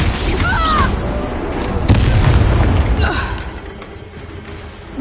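A Confringo fire-blast spell explodes in the Hogwarts video game: a loud, booming blast with scattered bursts and pops layered over a dense game soundtrack, fading slightly toward the end.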